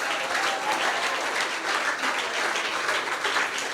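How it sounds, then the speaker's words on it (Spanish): A church congregation claps in a dense, sustained burst of applause, many hands at once, loud and even throughout with no break. "Yo no sé si ese sea un aplauso para un Dios vivo esta mañana"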